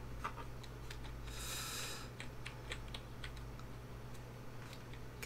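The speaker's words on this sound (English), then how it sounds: "I honestly hate this keyboard." Keys clatter on a computer keyboard during a Roblox game, a quick irregular stream of close clicks over a steady low hum, with a brief hiss partway through.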